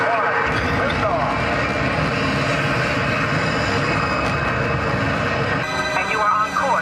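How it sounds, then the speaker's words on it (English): Simulated rocket launch on the Epcot Mission Space ride, a loud continuous roaring rumble that holds steady throughout, with a voice speaking over it. "We have main engine start."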